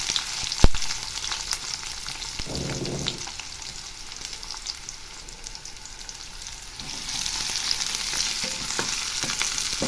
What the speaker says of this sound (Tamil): எண்ணெயில் கொஞ்ச நேரம் வதக்கிடலாம்.